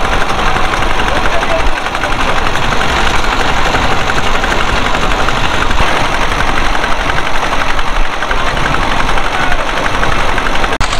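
Boat engine running steadily on the Jamuna river at Balashi Ghat, a loud continuous low droning chug with wind noise over it, close by and unbroken throughout.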